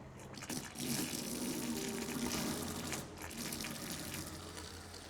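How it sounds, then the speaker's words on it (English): Water runs from a tap in a steady, rushing stream in a pharmacy laboratory, close by and continuous, with no talking. "the water is now running seamlessly."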